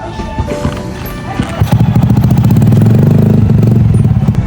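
A motorcycle engine starts up and settles into a loud, steady, close throbbing rumble with rapid regular pulses, after a brief jumble of clatter at the start.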